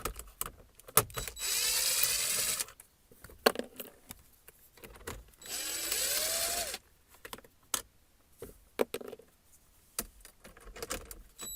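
7mm bolts removed from a Chevy Equinox dash around the HVAC panel and vent, with sharp metallic clicks and taps alongside two sustained rasping bursts of tool work, heard close with quiet gaps between.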